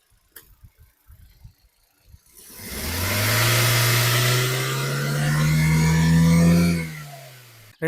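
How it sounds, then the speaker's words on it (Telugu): A 2017 Hyundai Grand i10 Sports petrol car engine starts after a few quiet clicks, then idles steadily and loudly at close range with a low hum, rising slightly before cutting off near the end. "చాలా నీట్ అండ్ సైలెంట్ ఉంది ఇంజన్."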